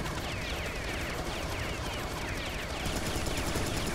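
Rapid continuous turret gunfire in the video game Serious Sam 3: BFE, a dense unbroken rattle of shots with battle noise, loud throughout.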